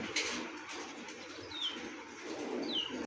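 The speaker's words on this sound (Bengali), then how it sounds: "সবগুলো ছটফট করতেছে কবুতরগুলো" Pigeons of racing and fancy breeds restless in their enclosure, a steady bed of soft cooing and rustling with a couple of brief chirps rising above it, close and fairly quiet.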